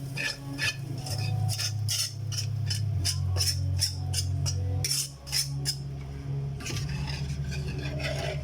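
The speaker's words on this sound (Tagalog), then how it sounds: "Lagyan natin yung karne." Rhythmic scraping and clinking of a utensil stirring meat into mung bean stew in a pan for ginisang munggo, a steady series of close strokes over a low background hum, with a brief pause midway.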